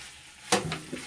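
Okra fry being stirred in a pan with salt, a sudden scrape and sizzle that breaks out of quiet, followed by a couple of softer clinks and stirs.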